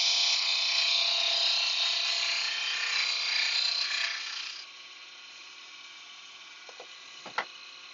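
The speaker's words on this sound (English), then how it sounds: "Hit it with the spindle gouge." A spindle gouge cuts an ash candlestick spinning on a wood lathe: a steady, close, high shaving whine for about four seconds, then the cut stops and only a quieter motor hum remains, with a couple of light taps near the end.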